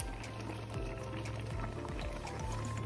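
Blended tomato and chili purée poured through a sieve for cow feet pepper soup, a continuous close wet pouring and trickling with low sloshing, steady throughout with no talk.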